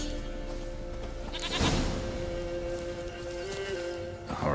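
A goat bleats in The Witcher 3: Wild Hunt, with a drawn-out cry standing out over a steady, tonal game soundtrack and ambient background that runs throughout.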